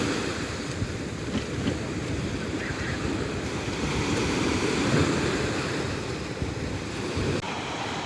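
Black Sea waves at Chaika beach in Odesa wash steadily onto the shore with a constant rushing roar and some wind, with no voices.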